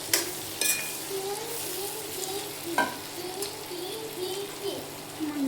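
Taro leaf curry with coriander is stirred in a pan, a soft bubbling sizzle broken by several sharp scraping strokes of the spoon against the metal.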